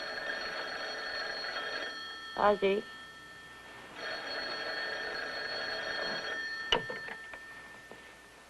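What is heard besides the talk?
telephone ringing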